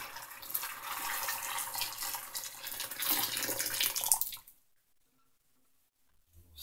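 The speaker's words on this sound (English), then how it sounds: "Pour a whole pot of boiling water in here again." Boiling water poured from a pot into a sink drain being unclogged, a steady rushing splash and gurgle for about four seconds that stops abruptly, leaving near silence.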